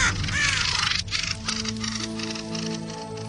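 A harsh, rasping corvid call rings out loudly near the start, followed by a mix of lower squawks and steady background noise.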